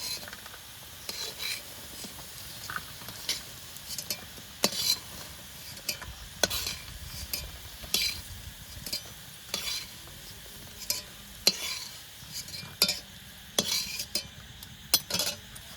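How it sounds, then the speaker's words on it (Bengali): Soybean pakoras frying in oil while being stirred and lifted out, with repeated metal utensil scrapes and clinks against the pan over a soft sizzle, close and steady with no talking. "মা আর আমি মিলে সোয়াবিনের পকোড়াগুলো ভেজে নিয়েছি"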